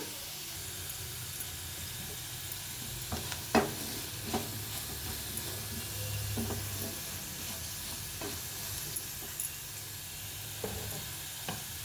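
Potatoes frying for aloo fry in a pan, a steady moderate sizzle with occasional stirring knocks and scrapes of the spatula, no voices.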